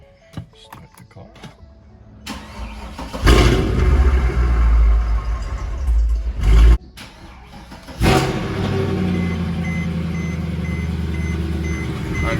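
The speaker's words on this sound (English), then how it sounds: "Start the car." A Mercedes C63 AMG V8 fires up after a brake pad and disc job, a loud low rumble bursting in near three seconds, cutting out, then catching again and settling into a steady close idle.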